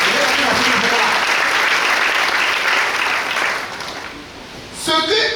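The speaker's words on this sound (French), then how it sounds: "Est-ce qu'on peut acclamer encore le Seigneur?" A church congregation bursts into loud, sustained applause and cheering, a dense wash of clapping that slowly fades before a voice speaks at the end.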